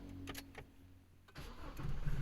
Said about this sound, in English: There you go, and release the brake, and our engine has started.